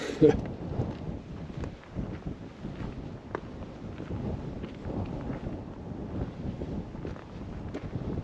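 Wind gusting across an open hillside trail in the Davis Mountains of Texas, a steady rushing buffet with bursts against the microphone, continuous and fairly close throughout.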